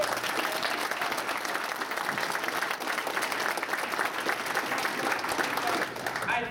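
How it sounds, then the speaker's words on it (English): Steady, full applause from an audience honoring a sales team, continuous clapping at even intensity throughout. "Please give them a round of applause."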